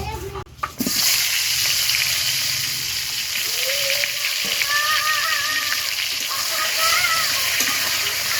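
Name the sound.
eggplant frying in hot oil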